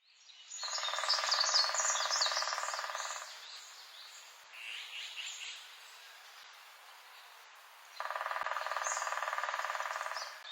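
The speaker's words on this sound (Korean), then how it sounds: "다양한 새들의 소리가 들렸어요" Several kinds of birds singing outdoors: bright chirps and trills, with bursts of dense, loud buzzy calls at the start and again near the end, quieter song in between.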